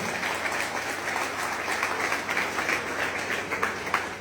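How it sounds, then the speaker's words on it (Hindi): A crowd at a public gathering applauds steadily for its teachers, a dense wash of clapping that holds at an even volume throughout, with no pauses. "गुरुओं के लिए जोरदार ताली बजा दे सारे गुरुओं के लिए।"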